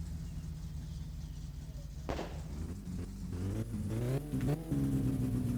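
A car engine in the video game My Summer Car idles, then revs up several times through a race exhaust with rising, throaty surges and exhaust pops, growing louder toward the end.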